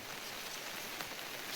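Heavy rain falling outdoors near a dark hillside, a dense continuous hiss of drops on surfaces with occasional louder spatters, steady and close, with no voices.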